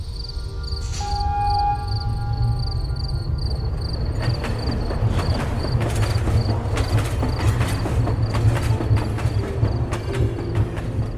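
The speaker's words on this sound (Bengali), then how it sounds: "ট্রেনটা ধোঁয়া ছাড়তে ছাড়তে চলে গেল" A steam train pulls away from a deserted station, giving a continuous rumbling roll with rhythmic rattling of the cars and a high whine above it, loud and sustained.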